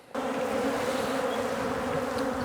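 Dense honeybee colony in an open beehive humming with a steady, loud, close-up buzz that holds unbroken throughout.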